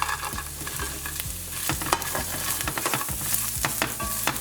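Fried tofu and garlic sizzling in a hot pan, with a busy hiss of frying broken by repeated scraping clatters as the pieces are stirred and tossed, fairly close and loud.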